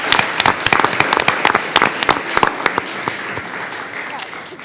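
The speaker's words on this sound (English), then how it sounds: "let's give our newspaper crew an applause" An audience at a school board meeting claps for the school newspaper crew, a steady, fairly loud round of applause with sharp individual claps standing out over the crowd's patter.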